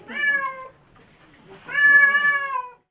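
Two drawn-out cat meows, close and clear, one after another with a short pause between them, in a small house holding 58 cats.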